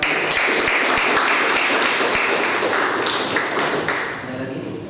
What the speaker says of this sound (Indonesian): Beri tepuk tangan dulu buat teman-teman.